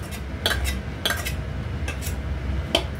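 A spoon clinking and scraping against a pot as semolina payesh is poured out, with several sharp metallic knocks spaced irregularly over a low background rumble.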